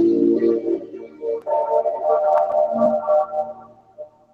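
A warm synthesizer plays a slowly shifting, filtered tone with swelling and fading notes, moderately loud with no voices.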